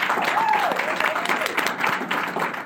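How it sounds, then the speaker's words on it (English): An audience at an evening event applauds steadily for the first speakers, a dense wash of clapping with a voice calling out over it. "I need you to start clapping right now, ladies and gentlemen, for your first speakers this evening."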